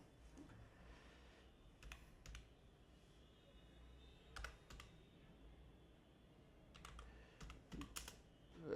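Computer keyboard keys clatter in short, scattered bursts as someone types HTML code, the clicks soft and close against a quiet background with no voices.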